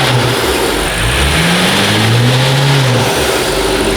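BMW with front-mount intake, red cone filters and downpipes revving hard, the engine tone sweeping up and down in rising and falling pulls, loud and close, with a steady throaty drone underneath.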